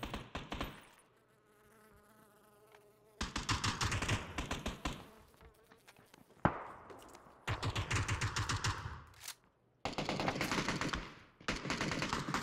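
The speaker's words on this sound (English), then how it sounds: "Hear lots of shots, but my gun's not yet loaded." Bursts of rapid gunfire crackle in a video game, with several loud volleys of shots separated by brief quieter gaps, some long and sustained, others short and choppy.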